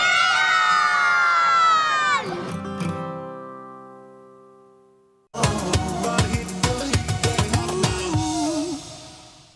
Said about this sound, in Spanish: nos despedimos de aquí con un grito de viva el trébol que nos van a hacer los niños